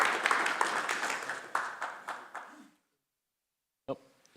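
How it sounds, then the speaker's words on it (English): Audience at a decentralised science conference breaks into a scattered round of clapping that dies away into silence, then a brief voice is heard. "You can clap."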